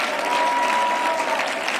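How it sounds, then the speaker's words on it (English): Church congregation clapping steadily at a sermon, a dense even wash of applause from a crowd with no break, some distant voices under it. "let's clap just a few minutes"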